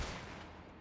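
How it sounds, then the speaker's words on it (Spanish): Gunfire from the video game Resident Evil 4 Remake, a brief loud burst of shots that decays quickly, heard up close. "Y le disparo en la tula."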